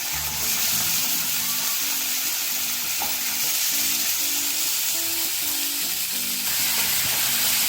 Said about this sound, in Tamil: இந்த காஞ்ச எண்ணெயில் இந்த சுண்டைக்காயை போட்டு நல்லா வதக்கிக்கணும்